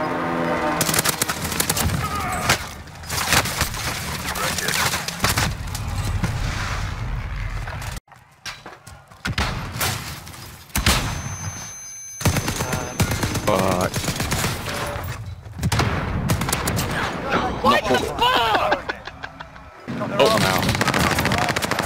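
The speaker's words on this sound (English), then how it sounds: "Calling for fire on my target." Video game combat with loud sustained machine-gun fire and bursts of gunshots, broken by brief pauses and heavy impacts of an incoming artillery strike, all close and dense throughout.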